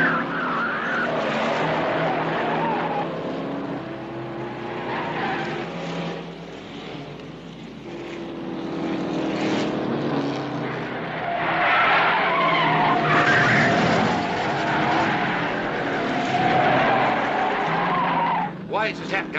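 Race car skidding and spinning out at a track, a loud, sustained tire screech and roaring engines that swell and fade, with voices talking over the noise.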